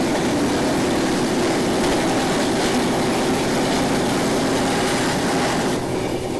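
The Rani Kamlapati Vande Bharat Express train passes alongside, heard as a loud, continuous rushing rumble with faint rail clatter that holds steady throughout and eases slightly at the end, with no talking.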